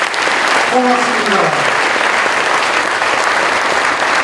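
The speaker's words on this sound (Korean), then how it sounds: "뜨거운 박수로 축복해 주시면 고맙겠습니다" A congregation applauds during a Korean church thanksgiving service installing a pastor emeritus and new officers, with continuous warm clapping throughout and a voice speaking briefly near the start.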